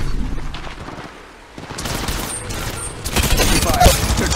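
Rapid gunfire in Apex Legends Mobile crackles in dense bursts, with a brief lull before heavier, sustained volleys build up, all under announcer-style voice callouts.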